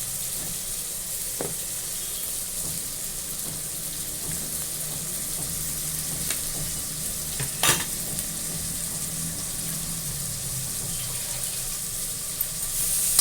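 Onions and tomatoes sizzle steadily in a pan, with occasional scraping stirs and a sharp clink partway through, under a constant background hiss.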